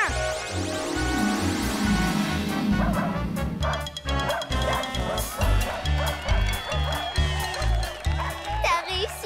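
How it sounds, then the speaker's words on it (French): A cartoon dog sings and barks along with a character in a French children's animated show, rhythmic yips and howls over bouncy music, loud and close, with voices mixed in. "Voici Culbuto et son chien qui chantent."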